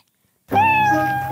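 Cat giving a single clear, drawn-out meow close by, starting abruptly after a moment of silence.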